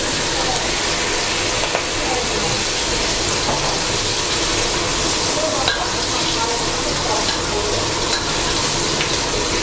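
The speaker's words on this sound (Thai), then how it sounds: "นำก้างลงมาทอดต่อนะครับ" Sea bass fish bones frying in hot oil give off a dense, steady, close sizzle that crackles continuously throughout.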